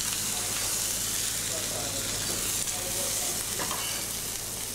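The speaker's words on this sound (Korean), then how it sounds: "프라이팬에서는 달걀 간이 익고 있습니다." Eggs sizzling in a frying pan, a steady, close crackle of frying that holds for the whole stretch with no voices over it.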